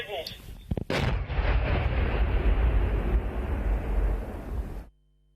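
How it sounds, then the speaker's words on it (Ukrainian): A controlled detonation of explosive ordnance: a sharp, heavy blast bursts out, followed by several seconds of deep rumbling roar that holds steady before cutting off abruptly. "Увага! Вибух!"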